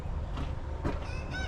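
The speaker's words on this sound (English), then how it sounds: "shut up, chicken." A chicken lets out a few short, nasal clucks and honk-like calls over a steady low rumble of background noise, fairly faint and spread across under two seconds.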